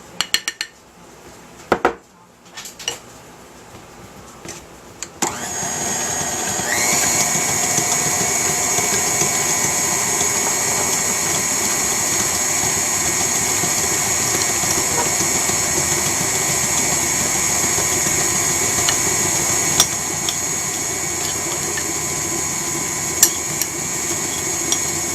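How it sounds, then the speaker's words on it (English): Electric hand mixer beating cream cheese and sugar on high for strawberry cream cheese cupcake frosting, a steady loud motor whir with whining overtones that starts after a few seconds of clinking bowl sounds and runs continuously to the end. "Go ahead and beat that on high for about 2 minutes."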